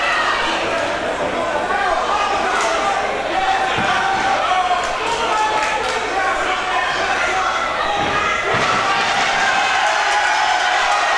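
A crowd at a white-collar boxing match roars in a steady, loud, unbroken wall of noise, with occasional thumps and bursts of cheering rising through it.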